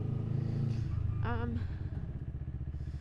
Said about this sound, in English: Hopefully you're okay with my engine